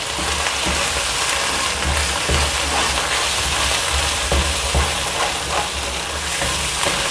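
Fried chickpeas being stirred in a pan with red chili powder and turmeric: a loud, dense, continuous sizzle with a rain-like crackle runs steadily throughout, close up, with no talking.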